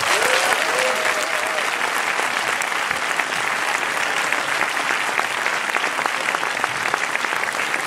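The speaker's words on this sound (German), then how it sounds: "Herzlichen Applaus für Josef Hanser." A cinema audience at a film talk gives loud, sustained applause to welcome Austrian actor Josef Hader. The clapping is dense, even and continuous throughout.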